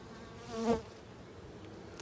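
Honeybees buzz around an open hive during a live inspection, a soft steady insect drone with one bee swelling loudly past close by for a moment before fading back.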